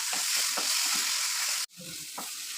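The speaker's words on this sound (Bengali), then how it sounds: "এবার আমি এর মধ্যে দিয়ে দেবো ফ্রাই করে রাখা আলুটা দিয়ে মশলাটা একটু কিছুক্ষণ আমি কষিয়ে নেবো" Fried potatoes and spice masala stirred and sautéed in a pan for a soyabean kofta curry, a steady loud sizzle with a few scraping stirs, briefly cutting out and then resuming.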